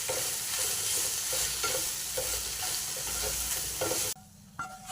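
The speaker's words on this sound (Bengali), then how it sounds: "এবার কিছুক্ষণ আমি নাড়াচাড়া করে নেব।" Food frying in a pan, sizzling loudly and steadily while a utensil stirs with a rhythmic scraping pulse, then dropping away abruptly near the end.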